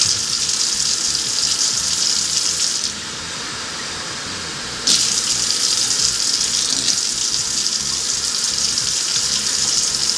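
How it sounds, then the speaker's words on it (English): Three-quarters of a cup of water pours into flour and cake mix for a rabbit shortcake, a steady splashing gush that quiets briefly in the middle before resuming at full strength. "So we need 3/4 cup of water."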